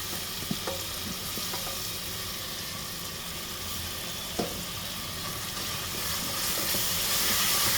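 Three chopped tomatoes sauté in hot oil for a veg paneer kurma. A steady, close sizzle and hiss runs throughout, broken by a few faint clicks of stirring, and swells slightly toward the end.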